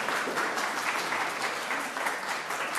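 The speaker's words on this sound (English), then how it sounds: "So that's worth applause as well." An audience at a Sunday church service breaks into steady applause, a dense, even wash of many hands clapping together for a few seconds, with no voices over it.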